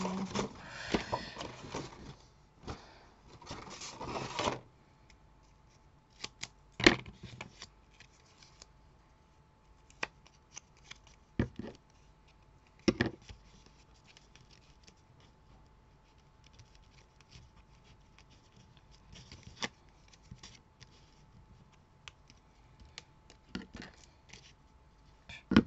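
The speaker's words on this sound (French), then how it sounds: "Alors, il me faut un ciseau," Scissors snip through paper card for a handmade greeting card, with a short burst of cutting early on followed by scattered single snips and light handling noises in a quiet room.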